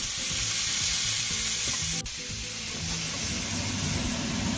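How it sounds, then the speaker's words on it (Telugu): Chicken tikka kebabs frying in oil on a grill pan, a loud, steady close sizzle with stirring and turning noises and a brief clatter partway through, no voices. "కొంచెం ఆయిల్ వేసి అంటే కింద అంటుకోకుండా ఇది ఎప్పటికప్పుడు కూడా ఇలా తిప్పుకుంటూ మనం కబాబ్స్ని ఫ్రై చేసుకోవాలి"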